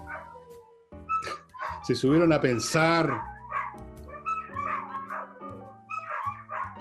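Dogs bark and yip in a string of sharp, fairly close barks with whimpering in between, heard under and between people talking.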